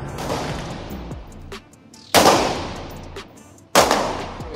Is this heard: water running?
no